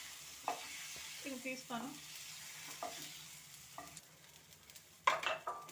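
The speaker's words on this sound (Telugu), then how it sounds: "ఇక టమాటాలు వేసుకున్నాను. టమాటాలు వేగాయి," Tomatoes frying in a pan for ridge gourd chutney, a faint, low sizzle with occasional scraping stirs and a brief spoken phrase over it.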